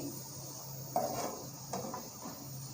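Vegetables with soy sauce frying gently in a pan on low flame, a soft steady sizzle broken by a few light scrapes and clinks of a spoon stirring.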